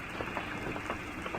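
Steady rain falls on a night street outside a house with a porch light, making a continuous close hiss of drops with small irregular patters and no voices.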